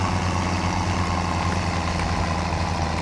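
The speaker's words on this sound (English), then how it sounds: "the hill upwards back to the farm. The tractor is fighting the weight." Tractor engine in Farming Simulator 17 labouring up a hill while hauling a heavy load, a steady, dense low drone with constant rumble and no pauses, loud and close throughout.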